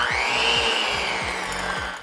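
An electric hand mixer whirs steadily, beating butter with a brown sugar substitute for keto cowboy cookies, a close continuous motor tone with a rhythmic low thump roughly every half second as the beaters turn through the thick mixture.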